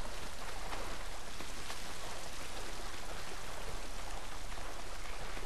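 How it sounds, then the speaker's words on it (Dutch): A steady, full roar of falling water from a waterfall in the video game Uncharted: Drake's Fortune, an even rushing wash with no breaks and no voices over it. "Dus richting die waterval."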